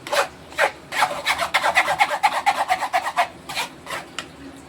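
Mango pulp being stirred and pressed through a sieve for homemade mango ice cream, giving a run of close, rhythmic rasping scrapes, about a dozen quick strokes with short pauses and no talking.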